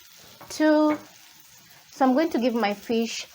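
Fish fries in hot oil in a pan, giving a soft, continuous background sizzle beneath a voice speaking in short bursts.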